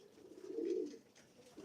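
A pigeon gives a soft, low, rolling coo close by, a single brief courting call that swells and fades, with faint room noise around it.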